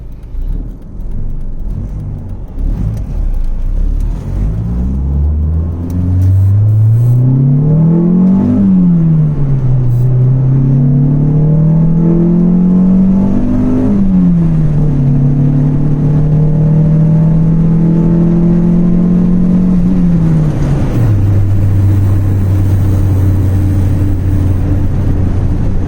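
Stock LF engine in a Honda Integra project car pulls away and accelerates, pitch climbing through several gears with drops at each shift, then settling into a steady loud cruise drone, close up and with no talking.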